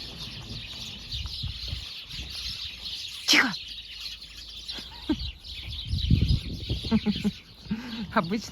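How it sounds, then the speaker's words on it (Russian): A cheerful chorus of sparrows chirps outdoors on a frosty, sunny February morning in Ukhta, Komi Republic, at minus ten degrees; scattered tweets come and go at moderate distance over steady street noise, with a voice speaking briefly. "веселый хор воробьев"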